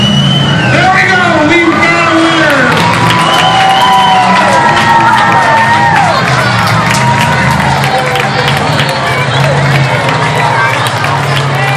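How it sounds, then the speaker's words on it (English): A loud, dense crowd cheers and claps at a Lenawee County Fair figure 8 race, with shouting voices and an amplified announcer running over the sustained roar. "Give this man a great round of applause."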